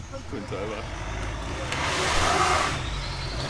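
A stock Ford Ranger on road tyres labours up rocky steps, its engine droning and revving steadily at a moderate distance with a rising surge midway, rumbling under ambient outdoor noise.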